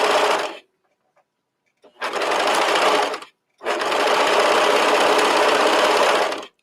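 An electric sewing machine stitches a knit top seam with a half-inch allowance, running in three steady whirring bursts, the last one longest, separated by short pauses.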